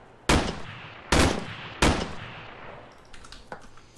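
Three loud, sharp gunshots in a video game, spaced under a second apart and each ringing off, followed by fainter distant shots.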